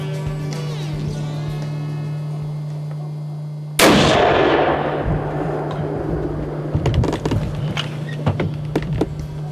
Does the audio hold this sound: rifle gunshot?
yes